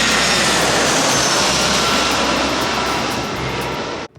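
A low-flying airplane roars steadily overhead at a beach on Lanzarote, loud and close with a broad engine rush that holds level and then cuts off abruptly at the end.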